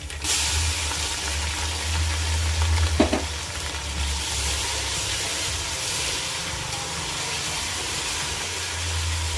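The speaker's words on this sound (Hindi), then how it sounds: "अब इसमें हम जिंजर गार्लिक पेस्ट ऐड कर रहे हैं।" Ginger garlic paste sizzles loudly with golden brown onions in a pan while cooking a chicken dum biryani. A steady, hissing fry runs throughout, with a brief stirring scrape near the middle and no talking.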